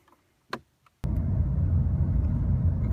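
A BMW i8 starting up: a couple of faint clicks, then at the one-second mark a sudden broadband rumble kicks in and holds steady and loud to the end, close by with no talking.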